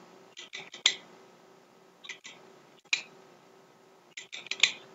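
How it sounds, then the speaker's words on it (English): A Parker Jotter steel-barreled pen clicks repeatedly in small clusters of sharp, light metallic snaps, close and quiet, with short pauses between bursts. "the Parker Jotter, which is a steel-barreled pen. Makes a nice little clicking sound."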